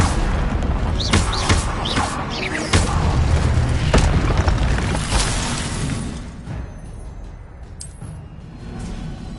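An Incendio fire spell cast in Hogwarts Legacy, heard as a burst of whooshing, crackling magic with sharp booming hits and shattering accents, dense and loud for several seconds before thinning into a quieter tail.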